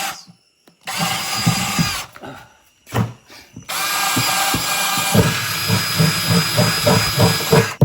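A power drill bores more holes into a plastic bucket, its motor whining loudly in several bursts separated by short pauses, then running longer with a juddering, rhythmic grind as the bit cuts through.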